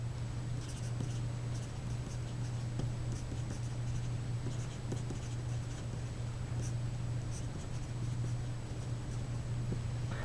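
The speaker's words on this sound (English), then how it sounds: "I'll draw it in because I forgot to here on this paper" A pen scratches steadily across paper while a math diagram is drawn, close and soft, with faint strokes over a constant low electrical hum.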